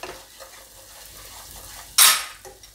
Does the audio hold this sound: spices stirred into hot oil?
yes